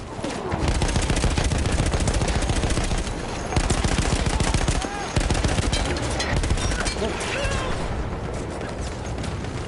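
Rapid, sustained automatic gunfire from submachine guns in the Battlefield 1 video game, dense overlapping bursts with explosions mixed in, loud and continuous throughout, with voices faintly beneath.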